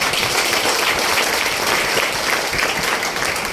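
Applause from an audience at a business lifestyle event fills the room, a dense, steady wash of clapping lasting a few seconds with no break.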